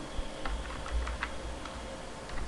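Keystrokes on a computer keyboard while C++ code is typed, a steady run of light clicks and taps sitting low in the mix over a soft background hum.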